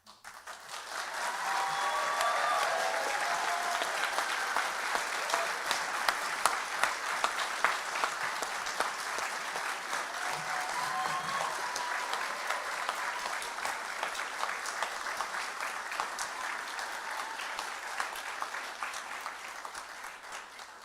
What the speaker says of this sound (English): I'm supposed to invite you to give him a round of applause, but I think you've already done that